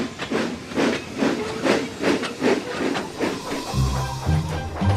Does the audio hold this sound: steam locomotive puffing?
yes